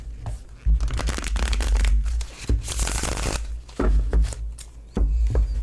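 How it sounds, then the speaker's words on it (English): Thin tarot cards riffle and shuffle in repeated close, crisp bursts with short pauses between, loud and papery. "The cards really do shuffle pretty nicely."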